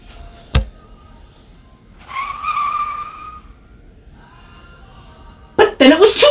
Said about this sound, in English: Her driver threw on the emergency brakes.